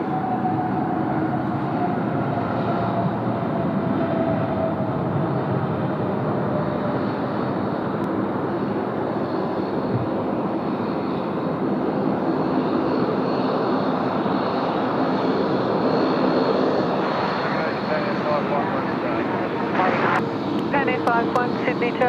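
Qantas flight 8, an airliner arriving from Dallas, lands at Sydney Airport with a loud, steady engine roar that fills the whole stretch, while a voice talks over it.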